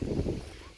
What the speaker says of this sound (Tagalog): ang lakas ng hangin doon na. Ang lakas ng hangin.